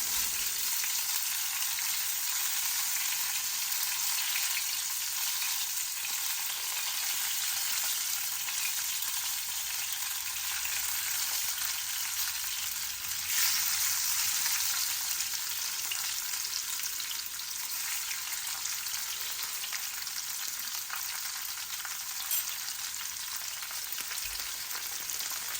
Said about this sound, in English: So now our oil is ready, so I'm going to pan fry it.